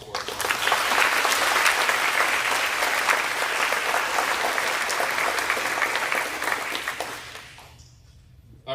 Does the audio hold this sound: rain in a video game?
no